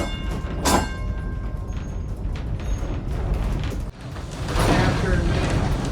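Old trolley train on its tracks in a New England trolley town, giving a steady rumbling mechanical roll with a rising clatter toward the end; a voice speaks briefly over it.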